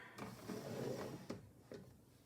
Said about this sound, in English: open the drawer